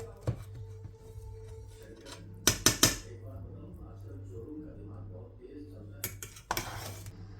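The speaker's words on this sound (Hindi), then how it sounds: "हम डिश आउट कर लेते हैं।" Mutton biryani being served out onto a dish in a home kitchen, with a few sharp clinks and scrapes of a serving spoon against metal and crockery in two short clusters over a low steady hum.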